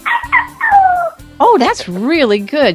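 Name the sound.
person imitating a small dog barking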